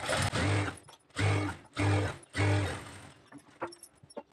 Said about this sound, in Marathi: आपण याच्यावरती दाब टीप मारून घ्यायची